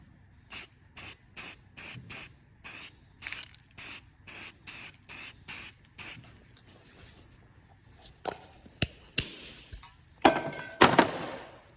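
Cleaner sprayed onto an engine part of a 2017 VW Transporter 2.0 diesel during a timing belt job, a run of about a dozen short sharp hissing bursts, then scattered clicks, knocks and scrapes from handling the can and parts.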